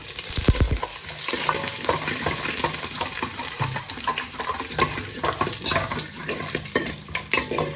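Green chilies and curry leaves fry in hot oil for a rasam, giving a loud, steady crackling sizzle up close with occasional stirring, and no voices.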